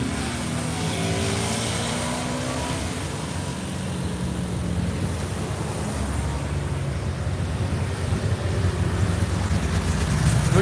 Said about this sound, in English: Look at that Porsche, no Porsche 911.